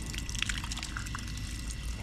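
Water running from a garden tap in a backyard vegetable plot, a steady close splashing trickle that fills the whole short stretch on its own.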